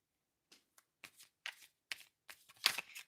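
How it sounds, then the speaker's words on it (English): A deck of tarot reading cards is shuffled by hand in a quiet room, giving about eight short, crisp riffling bursts in uneven rhythm, close and fairly soft. "I'm shuffling these cards."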